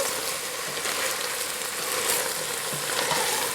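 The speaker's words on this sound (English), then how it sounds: "I'm putting in the parsley. I give it a stir." Artichoke and broad bean pasta sauce with parsley sizzling in a pan while being stirred, a loud dense steady frying hiss close up with faint scraping, no speech.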